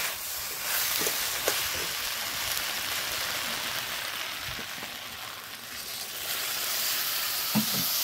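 Milk poured into shukto frying in a pan, with a steady close sizzle and bubbling hiss that runs throughout, joined by faint scraping stirs.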